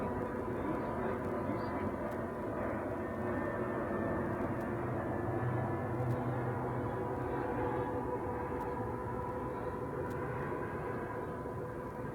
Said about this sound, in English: There's an airplane about to go over it.